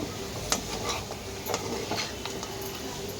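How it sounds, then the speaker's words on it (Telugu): A spoon stirs and scrapes chicken biryani in a pot, giving a soft continuous sizzle broken by several sharp scrapes and taps against the metal, close and fairly quiet, with no talking. "ఇప్పుడు ఒకసారి మూత తీసి కలుపుకుంటాము."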